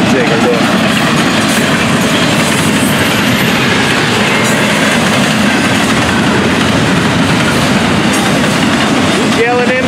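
A loud freight train carrying private cars and Mediterranean Shipping Company containers rumbles past continuously, wheels clattering and squealing on the rails, close and unbroken for the whole stretch.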